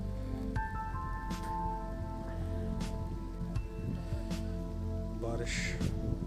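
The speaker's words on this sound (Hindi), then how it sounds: "फिर बारिश हो रही है बड़ी तेज़।" Heavy rain pours over an open cricket ground in Sheikh Badin National Park, a steady hiss with scattered sharper drops and faint distant sounds mixed in.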